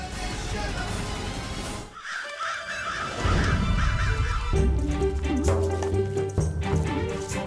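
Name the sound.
crows cawing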